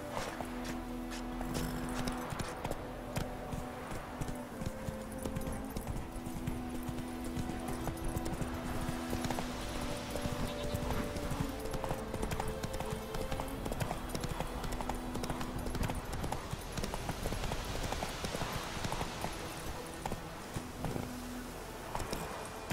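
Hooves of the horse Roach clip-clop steadily in The Witcher 3, a continuous walking-to-trotting rhythm under a constant bed of game music and ambience, with an occasional faint whinny.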